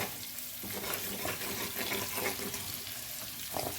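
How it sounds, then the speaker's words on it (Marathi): Masala frying in hot oil gives a steady soft sizzle with occasional stirring scrapes, close and continuous with no talk. "पण आता हे मसाला असा तेलात परतून घ्यावी"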